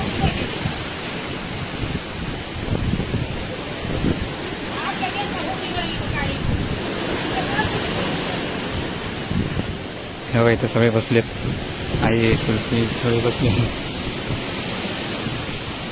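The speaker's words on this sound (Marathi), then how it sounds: "पाऊस पडतोय म्हणून सगळे बसले आतमध्ये घरात" Heavy rain driven by wind pours steadily in a village in Marathwada as a broad, continuous hiss, while people talk indoors over it.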